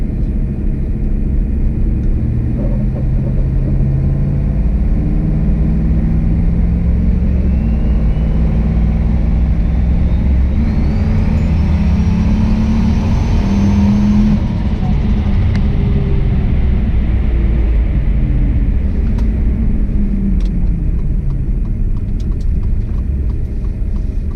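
A turbocharged Cadillac Escalade engine during a boost pull, a loud, close, continuous low roar that rises in pitch as it revs up, with a faint turbo whine climbing above it, then easing back down.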